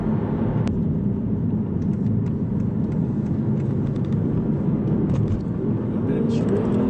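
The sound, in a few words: Aston Martin Virage cruising on dual carriageway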